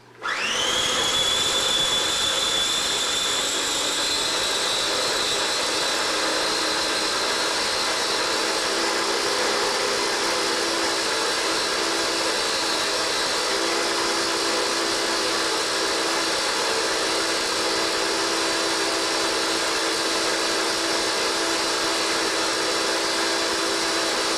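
A blender runs steadily and loudly, pureeing homemade fish food into a smooth paste, a continuous high whirring motor drone that starts abruptly and holds without pause and with no talking.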